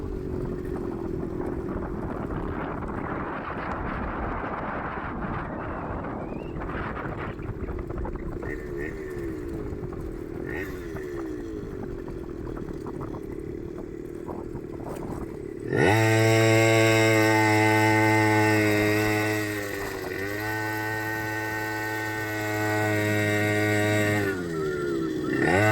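A small custom go-ped scooter engine hums steadily while riding downhill, then shifts to a louder, high-pitched buzzing drone with strong tonal whine for several seconds.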